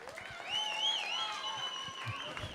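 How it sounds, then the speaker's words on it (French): Audience applause at a live drawing battle event, soft continuous clapping from a crowd sitting beneath a bright, sustained whistling tone, quiet and somewhat distant. "sous vos applaudissements"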